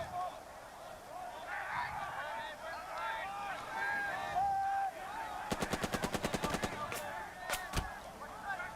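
Machine gun fire in the war game Burden of Command, Sicily beach battle: a rapid burst of a dozen evenly spaced shots, then a couple of single reports, over a background of battle din and distant shouting.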